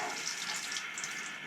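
Water rushes steadily from a water softener brine tank valve, a constant close hiss and splash with no pauses.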